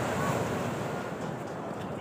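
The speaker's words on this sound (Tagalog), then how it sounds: "Ayan na yung alon, guys." Large ocean waves churn and roll during a typhoon on the coast at Dingalan. A broad, constant roar of surf is mixed with heavy wind buffeting the microphone.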